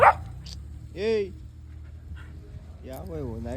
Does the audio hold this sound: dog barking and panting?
yes